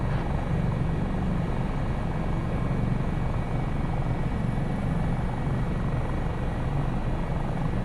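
HH-65 Dauphin helicopter in Microsoft Flight Simulator 2024, a steady close rotor and turbine drone with dense low thumping, unchanging throughout and free of voices.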